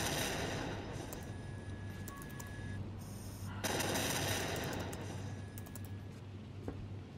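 Turrets on an airship in Batman: Arkham Knight fire in rapid bursts, a quick crackling patter that stops briefly midway and then resumes, fairly faint and dry.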